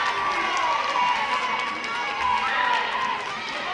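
A wrestling crowd at a live event cheers and shouts in a sustained, loud roar, with a voice talking over the noise.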